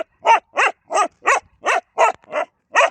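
A dog barking playfully in a rapid, even series of about nine sharp, close barks, each short and bright, with no talk over them.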